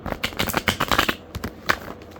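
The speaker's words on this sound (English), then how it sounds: "so I'm going to shuffle the deck" A deck of playing cards being shuffled by hand, giving a run of quick riffling flutters and soft slaps up close, with short pauses between bursts.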